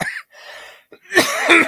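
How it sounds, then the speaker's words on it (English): A person coughs in a few rough, harsh bursts, the first short and the last longer and louder, close to the microphone with no speech around them. "other than this damn cough"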